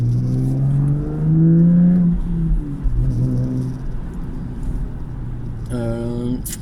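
A car fitted with a lightened single-mass flywheel drives through town, its engine humming and shifting pitch as it accelerates and slows, with a steady rumble of road noise throughout and a brief higher whine near the end.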